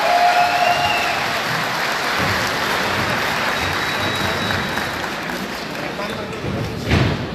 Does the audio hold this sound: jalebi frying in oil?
no